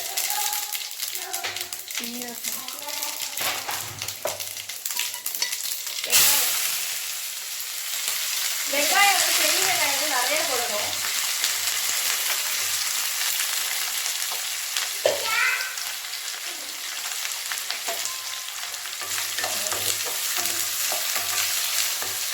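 Bay leaf and fennel seeds fry in a hot pan with a loud, sustained crackling sizzle, stirred now and then, with brief faint voice-like sounds in the background.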